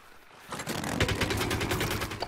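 Rapid bursts of automatic gunfire in the shooter game Plants vs Zombies Garden Warfare, a steady rattling stream of shots starting after a quiet half second and continuing to the end, fairly loud with no talk.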